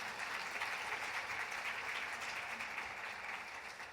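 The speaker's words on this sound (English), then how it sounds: "feel free to applaud." Steady audience applause during a 2019 conference presentation, a dense wash of clapping that sounds fairly distant and holds evenly throughout.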